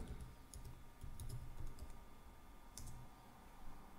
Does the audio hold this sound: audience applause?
no